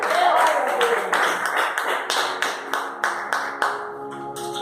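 Rhythmic, sharp clapping from a congregation at a Pentecostal church service, slow regular beats that taper slightly as a voice sounds at the start.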